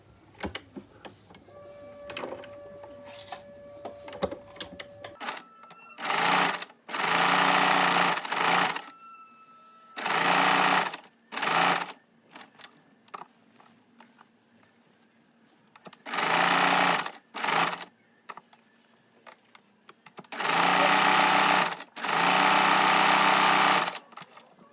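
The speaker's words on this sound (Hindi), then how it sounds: "तो चलिए सबसे पहले इस तरह से ट्राउजर में सिलाई लगा लेते हैं।" A sewing machine stitches a pattern onto trousers in several loud, steady runs of whirring needle hum, separated by quiet gaps with faint clicks and fabric handling.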